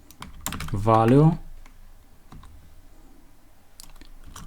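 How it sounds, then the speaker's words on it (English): Typing on a computer keyboard while coding in Python, a handful of crisp, close key clicks in short bursts, interrupted by a spoken word near the start, then quieter scattered taps. "I'm gonna type here for key"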